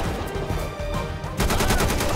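A machine gun fires in the video game GTA 5, rapid continuous bursts of automatic gunfire that grow louder and denser toward the end, close and harsh with no talk.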